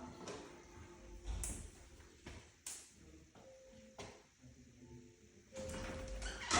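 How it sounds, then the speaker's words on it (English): A dog noses a slightly open door shut, giving a few sharp knocks and latch clicks against a quiet room with low background rumble; no one speaks. "I'm holding the door just slightly open so that she can hear that click of the door as she pushes it"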